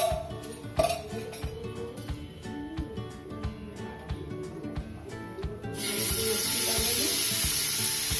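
Oil heating in a pan for frying Katla fish: a few close clinks and scrapes, then a steady, bright sizzle that rises suddenly and holds to the end.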